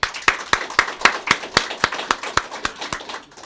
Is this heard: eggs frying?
no